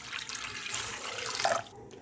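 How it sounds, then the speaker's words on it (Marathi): A short splash of water running from a tap into a pan, close and fairly quiet, ending in a brief gurgling trickle. "आता मी एका कढईत दोन ग्लास पाणी घेत आहे"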